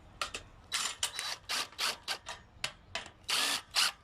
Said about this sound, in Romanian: Și acum cu pistolul cu cap de 13, da? Cu tubulară de 13